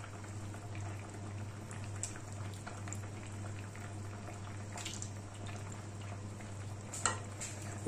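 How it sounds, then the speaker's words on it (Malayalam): Kerala-style horse mackerel fish curry (mulakittathu) simmering and thickening in a pot: a steady low bubbling over a constant hum, with a few small clinks and no voices. "നമ്മുടെ മീൻകറിയൊക്കെ വെന്ത് കുറുകിക്കൊണ്ടിരിക്കുകയാണ്"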